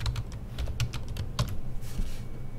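Quick, steady typing on a computer keyboard while a report with subtotals is built, with dense clicking keystrokes close by over a low background hum.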